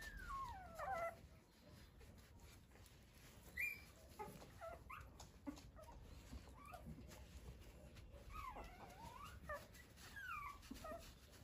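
A small Teddy mix stray puppy, rescued on a rainy day, whimpers and yips in thin, high whines that come in short bursts through the clip, close by with soft rustling and background noise.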